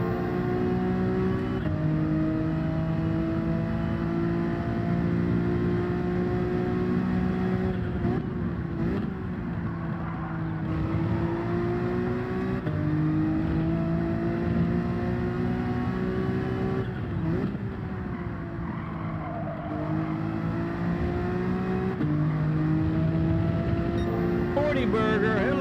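Race car engine in Gran Turismo 7 (video game) roars continuously and loudly, its pitch climbing under acceleration and dipping at gear shifts across a long run on the throttle.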